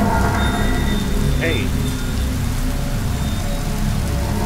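Pouring rain hisses steadily throughout, a dense continuous downpour heard up close, with a brief voice calling out near the middle and no clear thunder.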